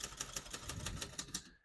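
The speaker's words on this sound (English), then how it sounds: "We're going to keep that on single for now and finish typing." Rapid keystrokes clatter on a 1955 Royal Quiet De Luxe portable typewriter, about a dozen crisp strikes in a steady rhythm, close and fairly quiet, ending abruptly.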